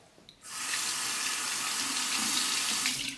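Tap water gushes steadily into a sink as a Merkur 20B safety razor is rinsed, a loud continuous splashing stream that starts abruptly and runs alone to the end.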